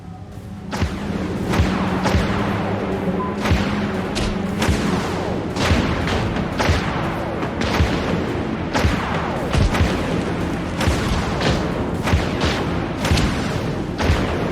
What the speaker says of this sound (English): Flechettes locked and ready to fire